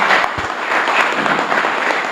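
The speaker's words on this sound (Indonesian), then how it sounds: "beri tepuk tangan yang meriah juga untuk mereka" Audience applause in a ballroom at a televised government dialogue event, a dense, even clapping from a crowd that holds steady and close throughout.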